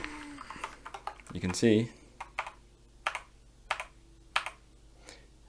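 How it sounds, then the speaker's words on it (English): Keys being pressed on a homemade DIY synthesizer keyboard, giving a series of separate sharp clicks spaced about a second apart, close by, while someone talks over the first part. "So if I press a key on the keyboard,"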